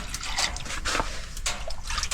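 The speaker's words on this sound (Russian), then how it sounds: "Это вот я наливаю сюда." Essential oil poured onto a sauna stove gives a close series of wet drips and trickles, several short bursts of splashing and hissing over steady background noise, with no talking.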